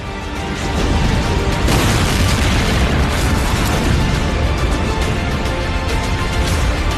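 Explosions from an air strike on tanks in wartime Ukraine make a dense, continuous roar and rumble, loud and sustained with no clear gaps between blasts.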